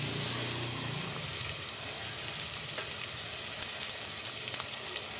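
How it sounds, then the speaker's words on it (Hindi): Yogurt fries in onion paste and ginger-garlic paste for a chicken white karahi, giving a steady, dense, close sizzle with faint scattered ticks from stirring, and no talking. "दही को भी भून लिया है"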